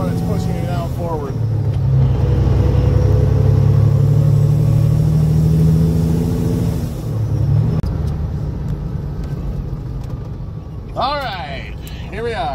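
A straight-piped, high-horsepower Caterpillar-engined truck rumbles loudly and pulls through a gear change in a subdivision, with the deep exhaust note dropping and rising as it shifts, while voices talk over the engine.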